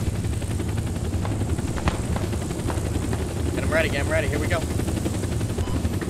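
Military helicopter rotor from the Squad video game, a UH-60 Blackhawk, throbbing steadily and loudly throughout with game noise, while a player talks over it.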